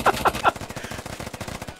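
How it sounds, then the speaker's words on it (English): Rapid gunfire bursts punching up through a floor in a Squad match, three sharper close shots up front, then a dense rattling string of automatic fire that cuts off abruptly. "Shots come up through the floor."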